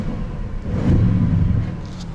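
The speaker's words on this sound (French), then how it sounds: "Les valves sont ouvertes, on démarre, on voit ce que ça donne." Audi RS engine starting with its exhaust valves open in comfort mode, a deep, muffled rumble that swells and then settles into a steady idle.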